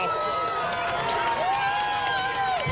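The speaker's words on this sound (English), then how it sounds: "And this crowd is getting more and more wild and energized." A protest crowd in Kalamazoo roars and clamours as it grows energized, the steady din of many voices running underneath a person talking close by.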